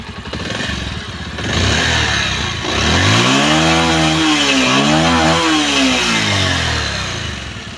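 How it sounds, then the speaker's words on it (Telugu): A 2020 Bajaj Pulsar 150 motorcycle fires up and settles into a loud, steady running engine note close by, with a rising and falling throttle swell partway through. No voices. "ఒకసారి బైక్ అయితే స్టార్ట్ అయితే చేసి చూసుకుందాం"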